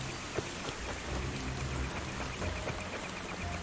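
Steady rain pours down in the video game Far Cry 2, a dense hiss of drops hitting a surface with a low rumble underneath, continuous and fairly close.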